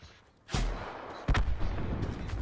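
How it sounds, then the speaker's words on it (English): A shotgun blast goes off in a battle royale shooter game, one sharp loud boom followed by a second heavy burst about a second later over steady ambient game noise. "Oh, he tried to hit me with a shotgun?"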